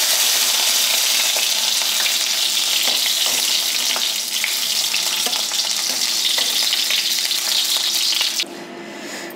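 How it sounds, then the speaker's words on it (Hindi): Pointed gourd (parwal) frying in oil in a pan, a loud, dense sizzle with small crackles and stirring scrapes that drops abruptly to a quieter hiss near the end. "अब ये हल्का सा फ्राई हो गया है"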